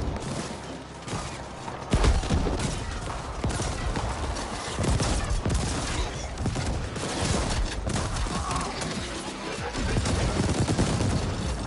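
Mortar fire in the shooter game The Ascent: a rapid, dense series of explosive bursts and impacts, loud and continuous, with a few heavier thumps among the barrage and no talking.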